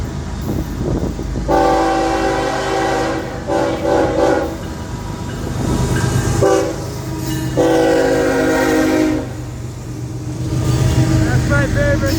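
An FEC freight train rolls past on a long straight stretch, its horn sounding two long, loud blasts over a steady, heavy rumble of wheels and cars.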